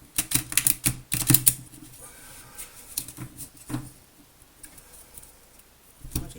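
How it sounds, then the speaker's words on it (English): Tarot cards riffled and shuffled by hand in a quick burst of crisp papery clatter, a pause, then a few softer taps and one last short flutter, close and alone with no talk. "One more shuffle."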